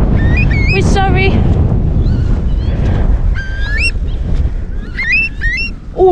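Agitated nesting bird guarding its eggs on open upland near a burial cairn gives repeated loud honking, goose-like calls in bursts, close to the microphone, over heavy wind buffeting, while people speak at moments.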